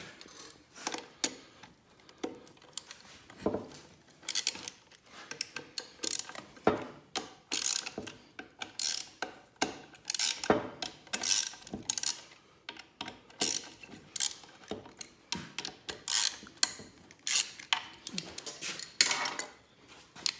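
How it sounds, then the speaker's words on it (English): Bolts are removed from the two halves of an F23 five-speed transmission case, with repeated sharp ratchet clicks and metallic clanks in irregular bursts separated by short pauses, close and moderately loud. "all we really got to do is remove the bolts holding the two halves together."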